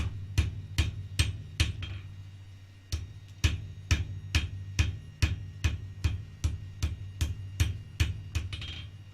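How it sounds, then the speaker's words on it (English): Steady hammer blows ring on metal while a titanium horseshoe is forged with a one-kilo hammer, sharp clanging strikes in quick runs of several with brief pauses, close and loud against a low hum. "This hammer I'm using, I think it's a kilo."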